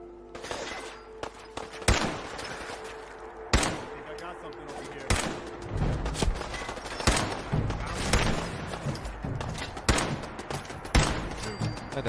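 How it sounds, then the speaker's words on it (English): In Fallout 4, bursts of gunfire crack out repeatedly, sharp loud shots spaced irregularly over a busy background of thuds and clatter, with occasional voices. "I hear gunshots."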